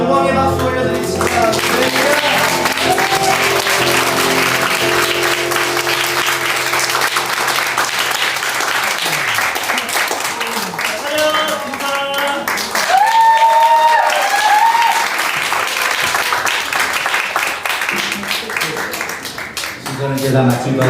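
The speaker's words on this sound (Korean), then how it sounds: "하나님께 영광의 박수 올려드리겠습니다." A church congregation applauds during a Christmas worship service, loud sustained clapping layered over music and voices that fade midway, with the applause continuing to the end.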